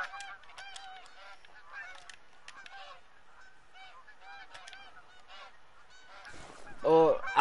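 Flock of geese in the hunting game theHunter: Call of the Wild, honking repeatedly in a busy, overlapping chorus, with louder, nearer honks and a flurry of calls at the end.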